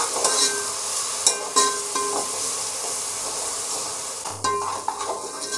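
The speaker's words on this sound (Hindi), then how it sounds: "अब इसे हम 30 से 40 सेकंड के लिए भून लेते हैं।" Spices and mutton fry in a pot for mutton yakhni pulao, a steady close sizzle and hiss with a few sharp clinks of a spoon against the pan, no voices.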